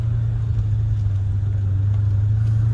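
An LS V8 swapped into a Porsche 996 rumbles low and steady while driving, a smooth, continuous engine drone heard from inside the car, with no one speaking.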